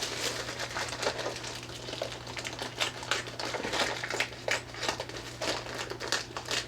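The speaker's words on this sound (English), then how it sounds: "I'm going to make a surgical cut here" Plastic packaging around a Sord M5 8-bit computer is cut open close by, producing a run of crisp crinkles and irregular snipping clicks with no voices.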